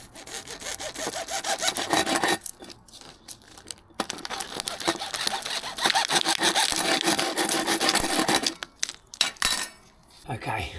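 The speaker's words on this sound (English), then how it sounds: "So I'm going to cut this down now with a hacksaw" A hacksaw cuts through tile in close, steady back-and-forth strokes with a rasping, gritty scrape, pausing briefly a few times before resuming.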